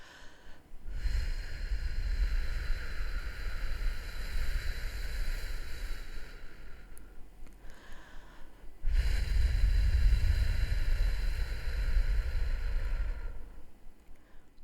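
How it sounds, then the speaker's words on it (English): A whooshing wind effect made by blowing lightly across a microphone, a breathy rushing noise in two long gusts with a short gap between them, close and steady. "To create the wind, we used two sound effects. The first was to blow lightly across the microphone, like this."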